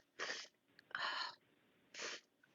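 Three sharp sneezes from one person, short bursts of breathy spray spaced irregularly with quiet gaps between, close and clear at low overall level with no talking.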